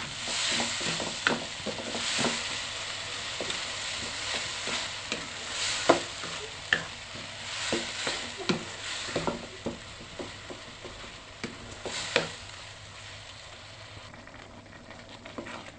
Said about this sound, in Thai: ผัดให้ทุกอย่างละลายเข้ากันดีค่ะ